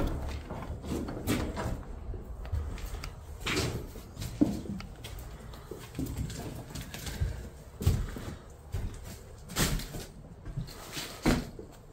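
Old doors being opened inside an abandoned Kentucky mansion, a series of scattered knocks, clunks and creaky handling noises at moderate distance over a quiet, hollow room tone.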